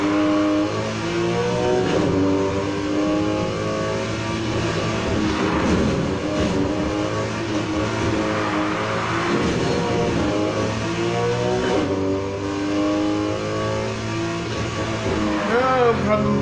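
Porsche 911 Targa 4 GTS from 2018 drifting in the racing game Need for Speed Heat, a steady loud engine drone with shifting revs and tire slide running throughout, with a brief chirp near the end.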